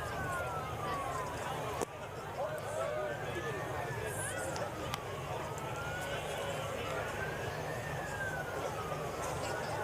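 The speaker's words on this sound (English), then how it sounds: "Sirens blowing up." A wailing siren sweeps up and down repeatedly, moderately distant, over a steady background rumble.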